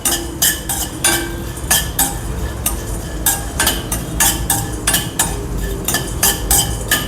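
Jamun seeds, cardamom, fennel and other whole spices are stirred around a dry pan with a metal spoon, producing steady, closely miked scraping strokes and clinks that repeat through the stretch, unaccompanied by voices.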